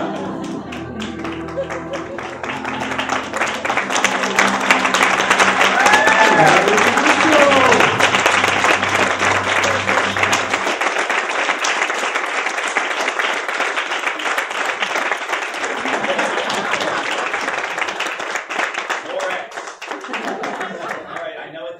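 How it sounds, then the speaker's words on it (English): A large audience claps and applauds steadily, swelling to a peak and then thinning slightly as it continues. "I'm supposed to milk the applause"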